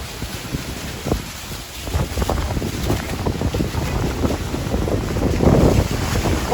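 Strong wind at Niagara Falls roars and buffets continuously, with gusts battering the microphone over a low rumble of waves and water.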